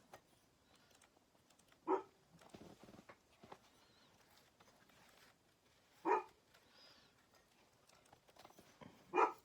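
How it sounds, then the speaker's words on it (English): Three short, sharp barks from a single indoor dog, spaced several seconds apart against a quiet room with faint handling noises between them. "What are you barking at"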